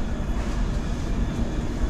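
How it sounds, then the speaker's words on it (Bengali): The 12887 Shalimar Puri Superfast Express pulls out of Bhubaneswar with a steady, even rumble of wheels and running gear throughout, heard from inside the train with no talking. "ট্রেন ছেড়ে দিল।"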